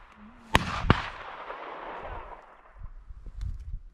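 Two sharp shotgun blasts ring out during a dove hunt in open country, sounding moderately distant with a rolling echo that fades, followed by faint rustles and thumps.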